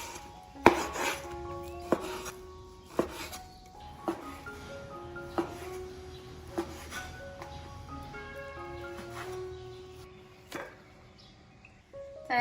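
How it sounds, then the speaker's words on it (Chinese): A knife slices beef across the grain into thin pieces on a cutting board, each cut landing as a crisp tap at a slow, regular pace, with gentle music behind. "我们来把牛肉切成薄片"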